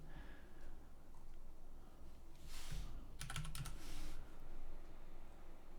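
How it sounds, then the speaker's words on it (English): Quick bursts of typing on a computer keyboard, a short run of close, crisp key clicks entering a search, with a brief pause between clusters over a quiet room hum. "With this you can just type in sky,"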